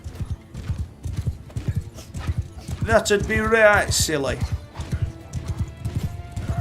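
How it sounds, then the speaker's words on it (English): Horses gallop in Mount & Blade II Bannerlord during a mounted charge, steady hoofbeat clip-clop running through the whole stretch with a neigh in the middle, while someone talks over it. "Horse charge!"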